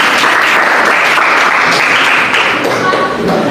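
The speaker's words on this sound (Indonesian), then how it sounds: "Tepuk tangan semuanya untuk anak" Applause from a classroom audience greets a student during an Islamic religious education teaching performance, a dense, steady wash of many hands clapping close by for the whole stretch, easing slightly near the end.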